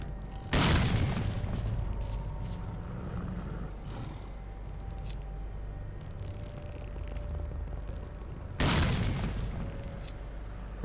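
Two heavy grenade blasts in STALKER: Clear Sky, one near the start and another about eight seconds later, each a loud broadband boom over a steady low ambient rumble.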